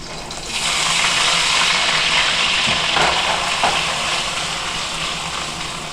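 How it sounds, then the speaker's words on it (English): Strips of beef thrown into a hot wok for lo mein, an immediate loud, steady hissing sizzle that swells after the first half second and carries on evenly, with a couple of faint clinks of stirring partway through. "So we're gonna throw our meat in."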